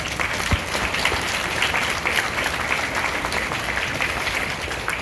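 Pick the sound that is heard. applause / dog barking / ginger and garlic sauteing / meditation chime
applause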